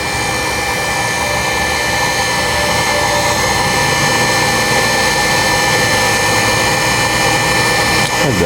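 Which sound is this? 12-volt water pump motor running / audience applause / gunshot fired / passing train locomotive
12-volt water pump motor running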